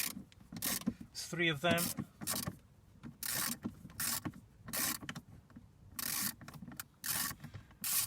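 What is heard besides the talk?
unbolting T25 torx screws on a Ford Focus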